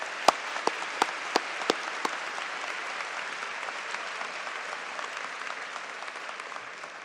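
A few sharp, distinct claps open, then a doctoral graduation ceremony audience breaks into a steady, dense round of applause that holds at an even level, many hands clapping together with no speech over it.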